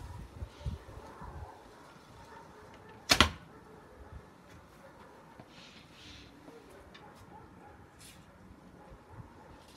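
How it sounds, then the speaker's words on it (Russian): A triangular bow looses an arrow that strikes a target with a single sharp, loud crack, heard once over faint outdoor wind and background hiss. "Послушайте и посмотрите работу лука"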